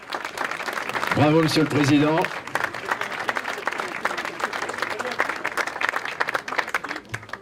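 Applause from a crowd at a ribbon-cutting inauguration of a chamber of crafts building, dense steady clapping that continues for several seconds while a man briefly calls out over it.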